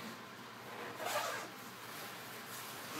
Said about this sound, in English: Zip that.